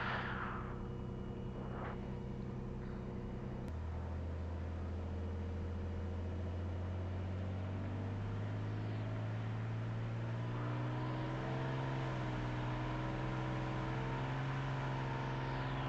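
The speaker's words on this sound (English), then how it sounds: "Cirrus 385 Sierra Romeo departing runway 20 Maryland" A Cirrus SR22 single-engine plane's engine drones steadily during its takeoff roll on runway 20, with a low hum that rises slowly in pitch as power builds. The sound is continuous and moderately loud, with no voices.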